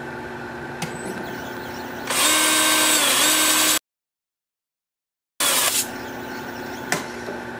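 An alder bowl spins on a wood lathe while 80 grit sandpaper is pressed against it, giving a steady motor whine that swells into a louder hiss of sanding, then cuts to silence before the turning resumes.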